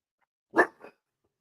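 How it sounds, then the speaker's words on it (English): A single sharp dog bark at its own reflection in a mirror, followed by a softer, shorter second bark, close by, with silence around it. "He's barking at himself in the mirror."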